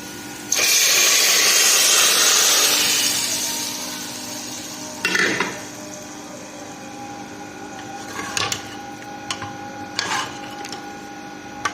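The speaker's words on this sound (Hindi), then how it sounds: "तो ये लग गया हमारा तड़का दाल को" A loud, hissing sizzle bursts out as hot tempering is poured into lentils, fading over a few seconds, followed by a few sharp metallic clinks and scrapes.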